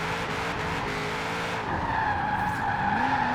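Tires skid and squeal as a Nissan 240SX drift build slides through a city in Forza Horizon 4, a steady loud screech with the engine note rising and falling underneath, continuous for a few seconds.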